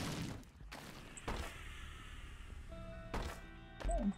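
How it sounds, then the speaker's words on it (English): A bomb going off in The Binding of Isaac Repentance: short, punchy thumps recur through the clip, with a louder burst near the end, amid game background sounds. "I'm just gonna bomb out of this room because it sucks"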